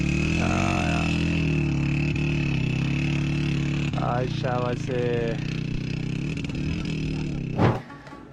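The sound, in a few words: motorcycle engine climbing a steep mountain slope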